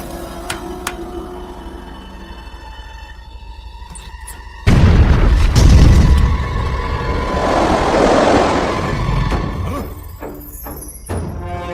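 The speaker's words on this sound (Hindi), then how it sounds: "उड़ा दो इस चट्टान को।" A cartoon explosion blows up a rock, a sudden loud boom at the midpoint followed by a rumbling, crackling blast of debris that slowly fades, after quieter background music and effects.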